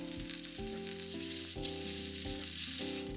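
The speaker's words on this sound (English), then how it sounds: "I'm sure if the fat is well grilled, the pork becomes more delicious." Miso-marinated pork fat grilling in a pan over low heat, a steady close sizzle and crackle running throughout with no talking.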